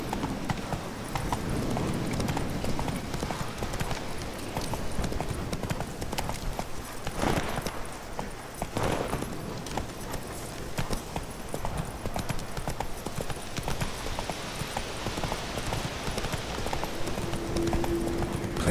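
In The Witcher 3, a horse gallops with rapid, rhythmic hoofbeats that continue for a long stretch at a steady pace, close and moderately loud, with no voices.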